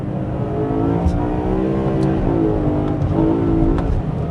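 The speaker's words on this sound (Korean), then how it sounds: "이 엔진 사운드가 사람을 이렇게 미쳐버리게 만들 수 있구나 라는 걸 느끼게 해주는 그런 엔진 사운드고" A BMW E92 M3 sports car engine revs steadily and loudly, its high harmonic whine holding near constant with slight swells, alone with no talking.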